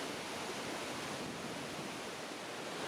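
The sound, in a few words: Awash River waterfall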